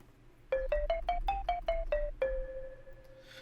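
A sampled marimba patch in the Arturia Pigments 3 synthesizer plays a quick run of eight bright mallet notes rising then falling, followed by one longer sustained note, clean and alone.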